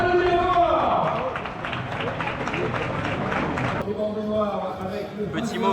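An audience applauds the winner of a race. Brisk clapping fills the middle stretch under a voice, which speaks before and after the applause.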